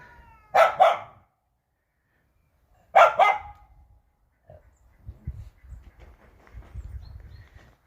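A dog barks twice in short doubled bursts a couple of seconds apart, moderately close, in a village farmyard in the morning, followed by quieter rustling and low background noise.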